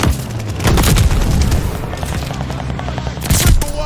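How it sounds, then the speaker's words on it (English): Bombing run explosions in the video game Call of Duty Vanguard: loud rumbling booms and rattling blasts rolling together in a dense barrage, swelling again near the end. "Friendly bombing run on the way."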